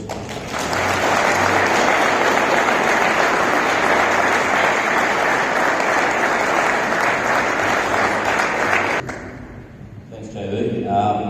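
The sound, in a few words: audience applause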